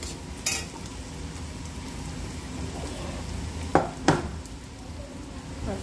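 Onions fry in a pan for chicken curry, making a continuous soft sizzle, with a few sharp utensil clinks partway through.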